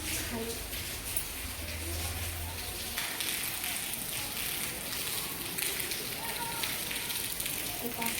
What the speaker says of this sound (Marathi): किती पाऊस पडत राहिला।